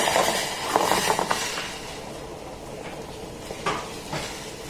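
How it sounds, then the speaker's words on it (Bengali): Kalo jamun sweets slipped into a pan of hot sugar syrup, giving a soft sizzle with a few light splashes and clinks of a utensil against the pan, close by and steady. "এবার এই মিষ্টিগুলোকে আমি শিরার মধ্যে দিয়ে দেব।"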